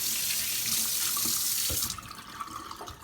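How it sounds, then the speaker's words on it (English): A sink tap runs steadily as the base of a Fizzics Waytap is rinsed under it, a close, full water rush that breaks up into splashing and then thins out near the end. "you can just go ahead and rinse that directly under the sink"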